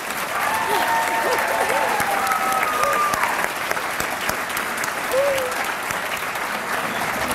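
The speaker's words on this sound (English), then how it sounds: "Please give all of our Changemakers a round of applause." A crowd at the 2019 Youthfest awards ceremony gives the Changemakers a steady, full round of applause, with a few whistle-like cheers rising above the clapping.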